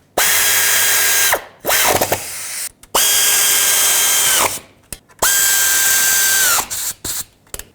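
A power drill tightens bolts on the transfer case shift motor of a 2008-2010 Ford F-250, running in three long, steady whirring bursts that rise to speed, with short clicks and rattles in the pauses between them.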